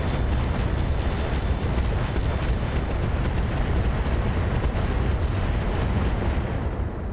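Weapons fire hammers a Bull Shark mech in the RogueTech battle game: dense, continuous booming blasts and impacts rolling without pause, loud and unbroken by voices.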